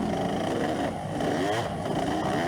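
An amateur dirt bike on a GNCC off-road racecourse revs hard and steadily as the rider closes in, a loud continuous engine drone with rising and falling pitch.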